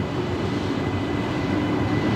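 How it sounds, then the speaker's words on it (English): A Jetstar Airbus A320 airliner lands at Brisbane Airport at night, producing a loud, steady broadband engine roar that fills the whole moment without pause. "there is a Jetstar 320 there coming in somewhere."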